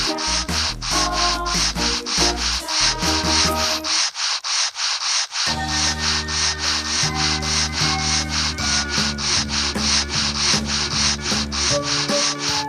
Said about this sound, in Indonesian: Selanjutnya kita haluskan dengan amplas.